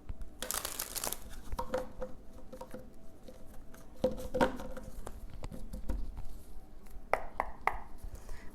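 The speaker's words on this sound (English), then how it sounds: "One more shuffle." Close, soft shuffling of tarot cards with papery rustles, light taps and crinkles scattered over several seconds, no talking.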